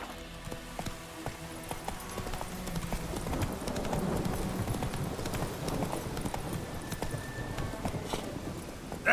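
Roach, a horse in the video game The Witcher 3, gallops with steady rapid hoofbeats and the clatter of gear, continuous and fairly close throughout.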